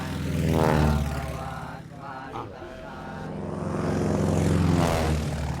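A propeller airplane drones overhead, its engine swelling, dipping, then swelling again as it passes, loud and continuous.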